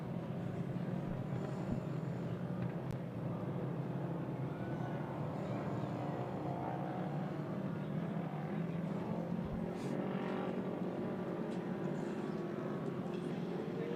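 Production 1000 UTV race cars on a short course track, their engines droning steadily as a continuous, fairly distant roar throughout, with a commentator's voice speaking over it.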